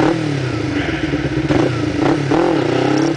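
A stock-geared motorcycle revs hard on the throttle during wheelie practice, the engine note rising and dipping in several close, loud surges with some mechanical clatter.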